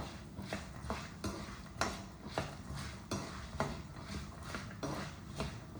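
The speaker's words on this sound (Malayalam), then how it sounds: "അങ്ങനെ ഓരോന്ന് ഇട്ട് കൊടുത്ത് നമുക്ക് വറുത്തെടുക്കാം." Moringa laddu ingredients roasting in a pan, heard as a spoon or spatula scraping and knocking against the metal in a steady, repeated rhythm, close and fairly quiet.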